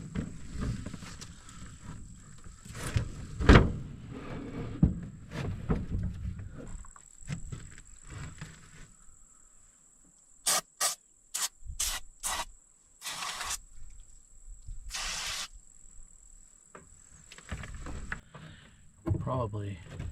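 Short bursts of lubricant spray squirted from a Dollar General can in a quiet hunting setting, several sharp hissing blasts in a row, some clustered and one longer, with soft rustling and faint background sounds between them.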